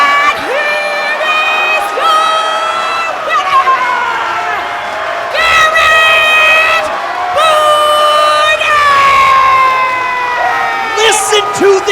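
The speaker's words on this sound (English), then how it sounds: "Listen to this crowd." A loud wrestling crowd at a Final Reckoning 2026 show cheers and whoops in repeated surges, with high rising shouts and chants swelling and fading.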